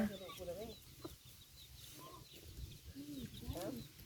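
Chickens cluck and murmur close by in a rural Thai yard, short soft calls scattered through the moment with faint voices and background noise.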